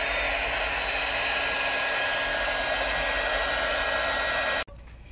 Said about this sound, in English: I did use the heat gun to speed up the process